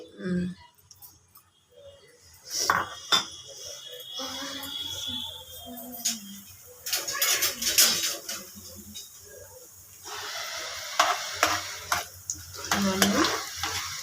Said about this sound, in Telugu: ఇప్పుడు వచ్చేసి పల్లీలు వేసుకుంటున్నాను పల్లీలు శనగపప్పు మినపప్పు సో మొత్తం పప్పులు వేసేసుకుంటున్నాం